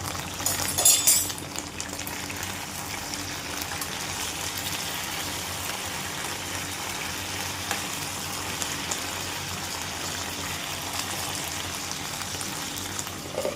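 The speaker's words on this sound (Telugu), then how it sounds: "ఇలా మధ్య మధ్యలో మూత తీసి మన దొండకాయలు కలుపుతూ ఉండాలి" Stuffed ivy gourd fries in a pan as it is stirred, giving a soft, continuous sizzle with a short clatter of the lid or spoon near the start, then a steady crackle with no talking.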